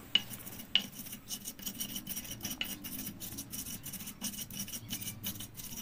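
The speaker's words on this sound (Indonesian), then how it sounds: "ini bumbunya dihaluskan boleh ditumbuk seperti ini" Seasoning paste for sweet corn fritters, with a little sugar added, is ground in a mortar, giving quiet rasping and rubbing strokes at a steady pace with a few sharper knocks, close by and faint.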